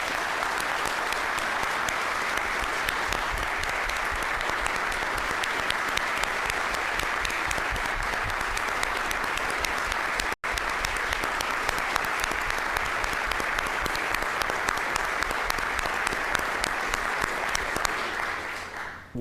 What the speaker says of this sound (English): please join me in a final round of applause for these awardees